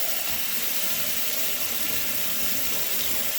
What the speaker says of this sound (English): Rinse the spoon off because I need that for the horseradish.